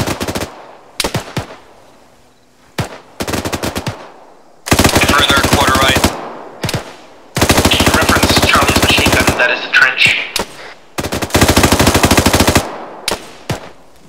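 Automatic machine gun fire in an Arma 3 military coop battle, loud close bursts of rapid rattling shots, several long strings of fire broken by short pauses and single cracks.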